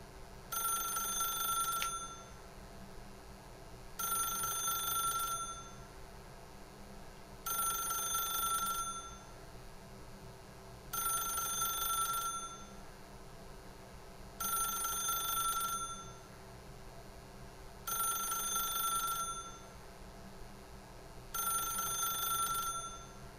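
A telephone in The Stanley Parable game rings in repeated bursts, seven rings spaced evenly with quiet gaps between, clear and unaccompanied by speech.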